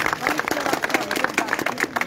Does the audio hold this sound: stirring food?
no